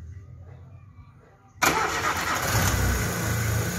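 A GM Celta 1.0 8V car engine cranks and fires after a quiet lead-in, then settles into a loud, steady idle close by.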